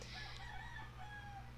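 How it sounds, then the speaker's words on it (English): A rooster crows once in a faint, drawn-out call over a steady low hum in the background. "roosters are annoying as hell"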